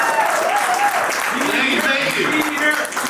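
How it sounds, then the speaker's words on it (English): A crowd applauds steadily for the county judge at a birthday celebration gathering, the clapping dense and continuous throughout with a voice talking over it. "give a big round of applause for the next county judge"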